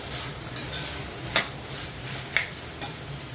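Spices sautéing in hot oil in a pan for chilli paneer, a steady close sizzle with a few sharp spoon scrapes and clinks against the pan as they are stirred.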